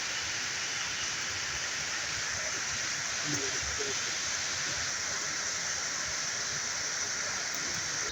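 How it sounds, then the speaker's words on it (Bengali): Heavy rain pours down outdoors onto a street in a constant, even hiss. A faint voice briefly surfaces beneath the downpour. "শুধু বৃষ্টি আর বৃষ্টি চতুর্দিকে শুধু বৃষ্টি দেখতে পাচ্ছেন আপনারা"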